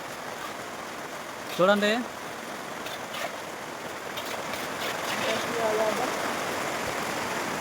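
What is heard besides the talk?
heavy rain falling on construction site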